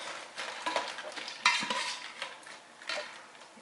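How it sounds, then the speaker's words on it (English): Crab cooking in cioppino sauce is stirred in a pot, giving quiet bubbling sizzle broken by clinks and scrapes of a utensil against the metal, fairly soft and without speech. "you'll want to stir your crab as it's cooking"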